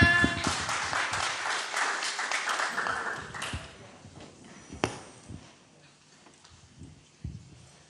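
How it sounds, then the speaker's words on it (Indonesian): Church congregation at a Saturday youth service applauding in a dense burst of clapping that thins out after a few seconds into scattered claps over quiet room tone. "mari kita tepuk tangan."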